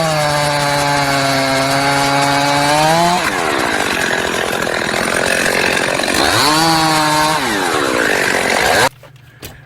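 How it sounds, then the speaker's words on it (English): A chainsaw cuts wood up close, its engine whining at high revs, dropping as the chain bites, revving again, then cutting off abruptly to near silence. "when I was cutting wood with my chainsaw"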